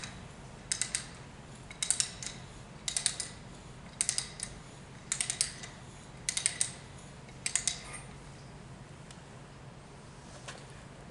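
A ratcheting reamer cranked inside rigid conduit to clear a burr clicks in about eight short bursts of rapid ratchet ticks with pauses between, close and fairly quiet.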